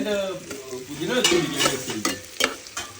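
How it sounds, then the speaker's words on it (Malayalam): Chicken biryani with onion and carrot is stirred in a pressure cooker. Close scraping strokes sound over a soft sizzle, and a brief voice is heard at the start. "ഇത് കണ്ടിന്യൂസ് ആയിട്ട് നല്ല രീതിയിൽ ഇങ്ങനെ ഇളക്കി കൊടുക്കണം"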